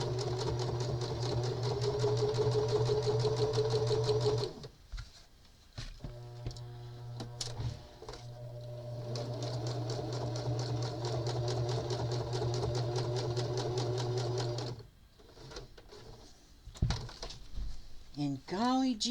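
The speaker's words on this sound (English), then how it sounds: "And I'm going to top stitch all the way around." Sewing machine top stitching around a piece of fabric scraps, a rapid rhythmic whir in two long runs broken by short pauses, close and steady beneath someone talking.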